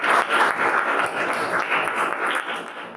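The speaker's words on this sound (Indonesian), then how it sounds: "ya kita berikan aplaus dulu untuk kelompok." A classroom audience applauds a student group, a dense run of hand clapping that holds for a few seconds and then begins to thin.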